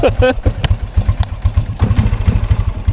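A Kawasaki Prairie 300 ATV engine runs nearby with a steady low, lumpy idle pulse throughout, loud and close, with some clatter and people talking over it.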